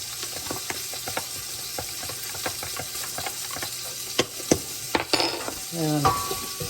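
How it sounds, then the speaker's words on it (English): Beef stew sizzles steadily in a pan while a utensil stirs and scrapes in rhythmic strokes, closing with a few sharp clinks of metal against the pan and no talking. "And I'll stir that while the beef is cooking a little bit more."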